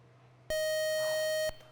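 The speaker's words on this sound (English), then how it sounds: "Buzzer got you there." Quiz show buzzer: a single sharp electronic tone held for about one second, loud and alone against a quiet studio hum.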